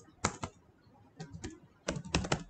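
Quiet computer keyboard typing while entering code, coming in three short bursts of rapid close key clicks with brief pauses between them.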